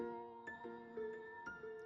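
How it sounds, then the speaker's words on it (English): A shop door bell at an art store chimes as someone leaves, several soft bell tones ringing out in a gentle repeating pattern with lingering tails, faint and alone. "The bell then rings as it signals your departure."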